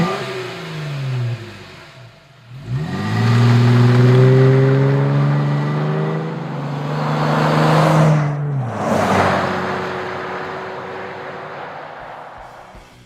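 Jeep Wrangler JK, 2012–2015, with a Flowmaster Force II performance exhaust, revving up loudly and holding a strong rumbling tone, easing, then climbing again with a brief pause before another rev; no talking.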